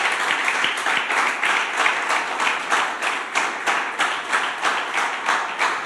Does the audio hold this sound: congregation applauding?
yes